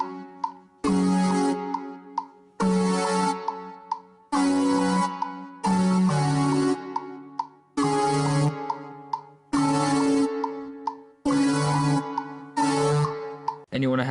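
A dubstep beat built in GarageBand with added bass notes: eight loud synthetic blocks repeat in a steady pattern, each a thick stack of tones with a heavy low bass line, separated by short gaps.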